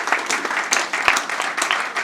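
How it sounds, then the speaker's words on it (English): Audience applause at a ceremony where a state governor honours a singer, a dense patter of clapping lasting about two seconds, fairly loud and steady with no talk over it. "I think they deserve a big round of applause."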